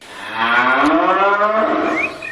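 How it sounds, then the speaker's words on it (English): Cow mooing, played as a round of a radio show guessing game: one long, loud, drawn-out moo with a rising then falling pitch, lasting about two seconds and heard clearly on its own. "That's a cow."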